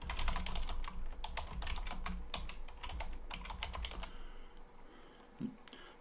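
Someone types a password on a computer keyboard in a Linux desktop setup, with a close, quick run of key taps for about four seconds before it falls quiet.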